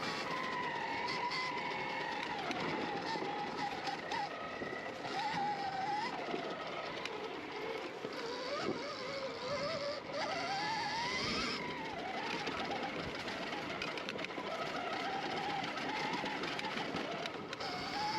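Stark Varg electric dirt bike ridden through woods on stock settings, a steady whining motor drone with rising and falling pitch and constant rattle and chatter over rough ground, close and continuous throughout.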